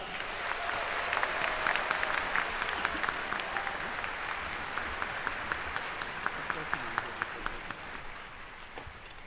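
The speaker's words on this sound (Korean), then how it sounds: "소중한 공연 만들어주신 모든 출연진분들께 다시 한번 큰 박수를 부탁드립니다." Sustained applause from a ceremony audience for the performers at the 80th Liberation Day celebration, steady crowd clapping with sharp individual claps throughout, fading slightly at the end.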